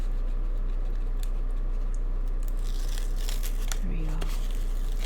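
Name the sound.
peeling sticky tape off a paper craft base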